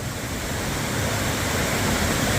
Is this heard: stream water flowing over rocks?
yes